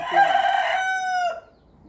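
A single loud, close rooster crow rises and holds for about a second and a half before cutting off, heard on its own with no talking.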